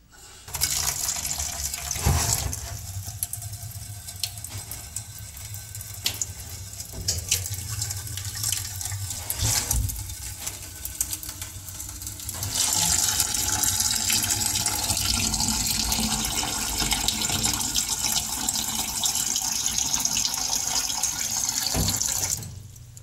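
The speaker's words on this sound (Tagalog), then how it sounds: "Lagyan natin ng tubig galing sa filter." Filtered water pours steadily into a pot of sweet potatoes, a continuous close splashing stream that grows brighter and fuller as the pot fills, with a few clunks of handling along the way.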